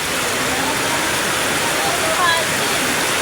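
Heavy torrential rain pouring down on a flooded street in Tundo, a steady, loud wash of dense noise filling the scene with no break.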